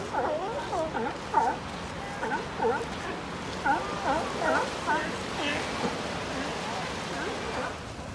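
Many sea lions bark and bellow in overlapping, repeated calls, moderately distant, over a steady background wash at La Jolla Cove beach, San Diego.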